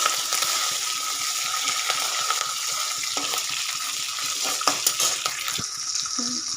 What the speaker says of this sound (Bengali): এর মধ্যে কারি পাতা দেবো। দিয়ে ভালো করে নাড়বো।